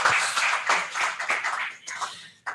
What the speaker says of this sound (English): Could we please give him another round of applause?